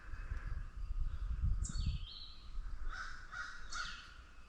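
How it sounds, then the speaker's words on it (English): A few harsh crow caws sound from a moderate distance over a low rumbling background, spaced irregularly across a few seconds. "them crows, they're just ain't worried a bit about me"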